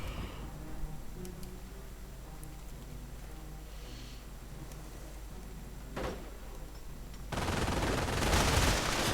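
Machine gun fire in a World War II real-time strategy game, a dense rattling burst rising near the end over steady low battle noise, fairly faint, with a sharper crack midway.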